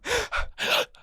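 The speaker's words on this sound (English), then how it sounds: "did you hear the gasp?" A sharp gasp of breath, loud and close, comes as several quick airy intakes in a row, with no other sound around it.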